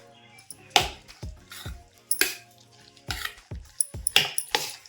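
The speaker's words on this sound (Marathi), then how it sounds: "आता हे सर्व मिक्स करून घ्यायचे व्यवस्थित" Green moong chilla batter with carrots, capsicum and other vegetables being mixed in a bowl, a series of close, irregular spoon scrapes and clinks against the vessel with short pauses between strokes.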